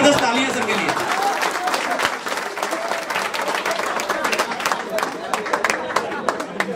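Sustained applause from an audience at an MLM business meeting in Bolpur, West Bengal, with dense clapping filling the room for several seconds and fading slightly toward the end.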